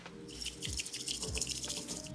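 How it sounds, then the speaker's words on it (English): Bamboo whisk stirring matcha powder and freshly poured water in a bowl, a quick wet swishing and dripping that runs steadily and close up, building froth. "And let's whisk it."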